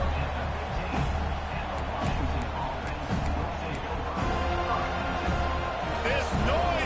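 A large, loud football stadium crowd roars while the opposing offense tries to operate, a dense, sustained wall of noise heard under continuous play-by-play commentary.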